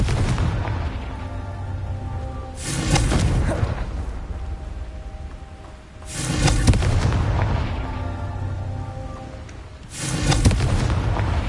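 Confringo blasting spells from Hogwarts Legacy: three heavy booming explosions spaced several seconds apart, each a loud burst that rolls out into a low rumbling tail over a steady game background.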